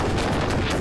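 Cannon fire in a war film about special forces fighting Japanese troops: a loud, dense blast that fills the whole moment with broadband roar and rumble, with no talk over it.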